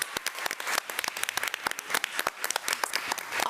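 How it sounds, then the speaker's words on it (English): Applause at a school board meeting honoring a student, a fairly close, uneven patter of claps from a modest group that keeps going at steady strength throughout. "So let's give him a round of applause."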